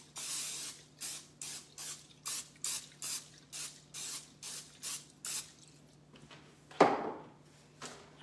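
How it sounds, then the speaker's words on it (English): Cooking spray sprayed into a standard loaf pan before baking: about a dozen short, evenly spaced hissing bursts close up, followed by a brief clunk, with no talking. "Let me give it a spray."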